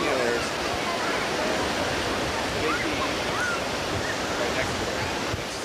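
Ocean waves wash onto a beach in a steady broadband surf roar, close and continuous, with wind buffeting the microphone and faint voices in the background.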